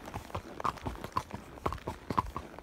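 Horse hooves clip-clopping steadily on arena footing while being ridden, a brisk rhythmic series of soft thuds at close range, fairly quiet, with no speech.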